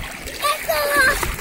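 Someone wading into shallow sea water makes continuous splashing. A voice and other talk sound over the water close by.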